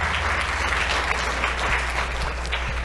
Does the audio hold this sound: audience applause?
yes